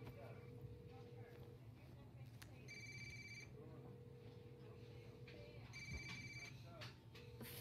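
Phone ringing tones in a detective video game: two bursts of electronic ringing over a low humming background, with faint voices beneath.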